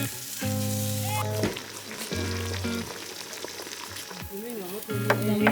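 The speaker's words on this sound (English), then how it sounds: "We have Uncle Lau grilling for a little bit." Food sizzles and fries on a grill at a family cabin in the Minnesota boundary waters, a steady crackling hiss underneath loud humming tones and occasional bumps and clatter.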